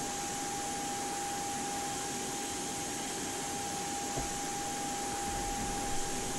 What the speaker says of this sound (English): That EPU is spooling.